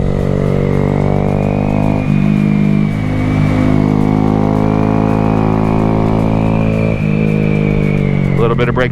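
A motorcycle engine hums steadily close by while riding mountain twisties, its pitch dipping briefly as the throttle eases off, with someone talking over it throughout.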